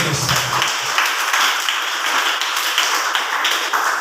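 Sustained, steady clapping from an audience at a church sermon, dense and fairly loud throughout with no clear break.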